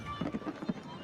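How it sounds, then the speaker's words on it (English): Fireworks bursting outside the White House during a protest, a few dull booms at about 0.2, 0.35 and 0.7 seconds over a steady crowd hum, with voices in the background. "That looks like some expensive fireworks."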